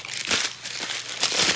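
Paper packing crinkles and rustles in several bursts while a silver bullion shipment is unpacked, close and fairly loud with no voices.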